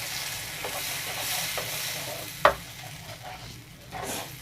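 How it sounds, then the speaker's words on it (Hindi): Ground tomato masala fries and sizzles in oil in a pan, with steady soft crackling broken by a few stirring scrapes and one sharp clink near the middle, no voices. "थोड़ी देर हम इसको भूनेंगे जब तक ये मसाला तेल नहीं छोड़ने लगे, तब तक हम इसको भूनते रहेंगे।"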